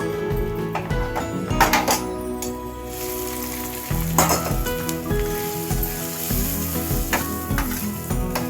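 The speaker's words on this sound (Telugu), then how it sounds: "ఇప్పుడు పోపు కలిపేసుకుందాం మధ్యలోను" Light sizzling of a hot spice tempering under the clatter and scrape of a spoon stirring it into a bottle gourd buttermilk stew in a metal pot, with occasional clinks.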